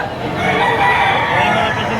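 A rooster crows at a chicken market during stormy weather, one drawn-out call that rises and holds for about two seconds, close and fairly loud over a noisy background.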